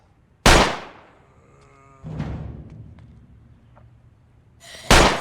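Gunfire in the zombie survival video game Project Zomboid, three loud booming shots spaced a few seconds apart, each with a ringing, fading tail.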